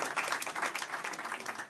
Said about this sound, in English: Clap your hands. clap your hands.